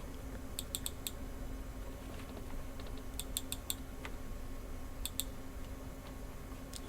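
Keys pressed on a computer keyboard for a Ctrl+Shift+Space shortcut, short clusters of light, crisp clicks in quick bursts, faint and close, over a quiet background hum.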